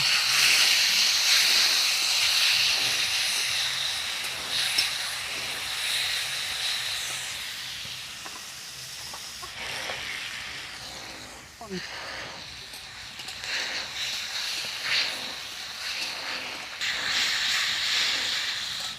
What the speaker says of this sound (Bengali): এই সার ডাঁটাগুলোকে একটু ভেজে নেব